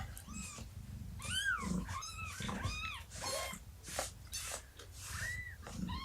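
A litter of kittens mews loudly and repeatedly up close, overlapping high, insistent cries coming in a dense, noisy chorus.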